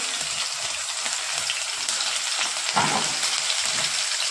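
Garlic and green chillies frying in hot oil for a kurdai and onion dish: a dense, steady crackling sizzle close by, like light rain, with a slightly louder spattering burst midway.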